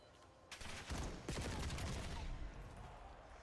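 Rapid bursts of automatic gunfire in a Call of Duty League professional match, a dense volley of overlapping shots lasting a few seconds, loud and close, with commentary faintly underneath.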